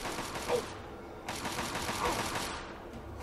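Rapid gunfire in the video game Fallout 3 Operation Anchorage, a steady rattling stream of shots that is loud and continuous, with a slight surge in intensity partway through.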